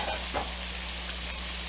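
Onions sautéing in a pan for cream of broccoli soup, a steady low sizzle and crackle running evenly throughout with a faint stir or two, no voices.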